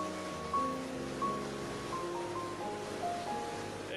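Historic German river mill water wheel turning in running water, giving a steady wash of flowing and splashing water with a low rhythmic churn and faint tonal creaks, moderately close.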